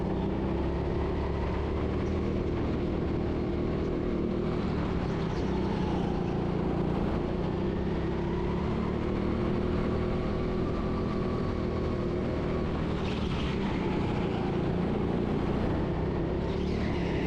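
Go-kart engines drone continuously on the indoor TeamSport Coventry track as karts take tight double hairpins, a steady, fairly loud buzzing hum with slight rises and falls in pitch.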